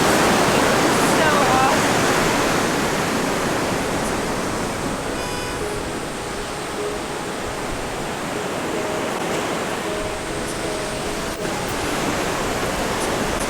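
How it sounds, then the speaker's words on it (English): Ocean surf washing onto a tropical beach in Manuel Antonio, a steady broadband roar of breaking waves that continues throughout, with faint background sounds mixed in. "I love being on a beach near the ocean."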